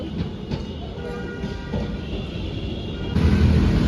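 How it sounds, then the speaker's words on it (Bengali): Kolkata tram passing in the street, a steady rolling rumble with faint rail clicks, growing louder and heavier near the end as it comes close. "এই যে কলকাতার বিখ্যাত ট্রাম যাচ্ছে এখান থেকে"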